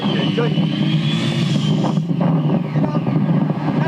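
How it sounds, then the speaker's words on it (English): A motorcycle rolls into a parking lot, a steady engine rumble with wind buffeting the microphone, fairly loud and close, while people talk over it. "There's Glenn pulling into the parking lot."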